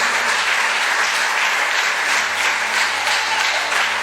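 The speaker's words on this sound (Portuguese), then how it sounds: "Aplauda Jesus." Loud, sustained applause from a church congregation praising Jesus, many hands clapping in a continuous roar over a low droning hum, steady from start to finish.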